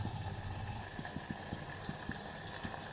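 Onion and tomato kulambu with rock salt simmers under a lid in a pot, giving soft, faint bubbling with small regular pops at a quiet, steady pace.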